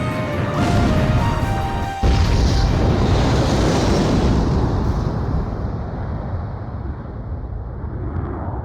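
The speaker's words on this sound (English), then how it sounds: "Mass driver hit by cruise missile." A cruise missile strikes a mass driver in the Ace Combat 5 video game, setting off a loud, heavy crash that booms and then rumbles away into a long roaring decay.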